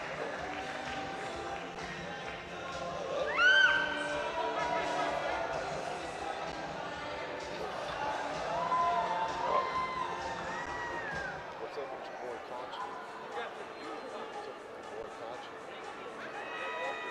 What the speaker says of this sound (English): Crowd having fun.